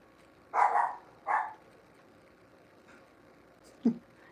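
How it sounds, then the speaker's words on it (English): Two distant dog barks in quick succession, then quiet with a faint brief knock near the end. "You guys can hear the mine boss barking."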